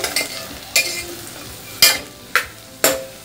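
Chopped vegetables, including capsicum, being stirred for pulao in a hot, sizzling pan, a ladle scraping and clanking in about five sharp strokes over steady frying, close and alone.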